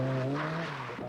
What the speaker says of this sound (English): McRae's Cosworth was still hopping all over the road